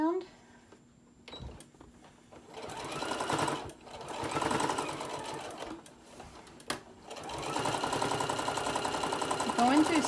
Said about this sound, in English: I'm gonna sew it all the way around.